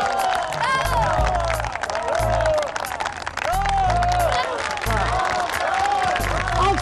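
Audience applause at a staged comedy show rolls in steady clapping and cheers, rising and falling over several seconds as a voice and laughter-like shouts sound over it.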